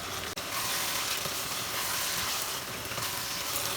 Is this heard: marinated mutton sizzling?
yes